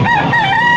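A rooster crows once at a pet market, a short, loud, slightly hoarse call with no talking over it.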